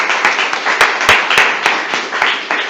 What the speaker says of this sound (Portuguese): mas antes eu queria pedir uma salva de palmas para o Edil